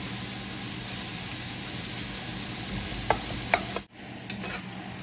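Onions, cashews and tomatoes frying in a pan for butter chicken, a constant close sizzle with a few sharp stirring scrapes and clatters near the end.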